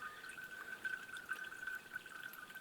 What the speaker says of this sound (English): we're just using gravity and the pressure of the bag obviously to push the water through